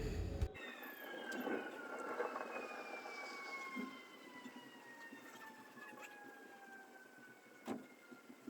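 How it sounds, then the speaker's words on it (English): Outdoor storm warning sirens during a tornado-warned storm, faint and distant, their long wailing tones slowly falling in pitch over a low background rumble, with a couple of brief knocks nearby. "The sirens end and all that stuff."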